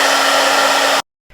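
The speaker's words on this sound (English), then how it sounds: "just moving the blow dryer along with it" A handheld hair blow dryer runs loud and steady at close range with a constant whine, then cuts off abruptly, leaving a short silence before faint room noise returns.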